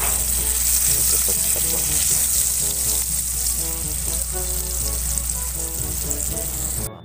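Hotdogs frying in a pan, a continuous close sizzle and crackle with scattered pops lasting several seconds, ending abruptly.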